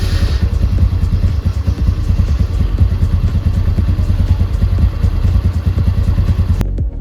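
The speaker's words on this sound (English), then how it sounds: "So let's place this scooter on idle for 15 minutes" A TVS Ntorq scooter engine idles at close range, its low putter steady and even, with a faint mechanical clatter, until a sharp click near the end.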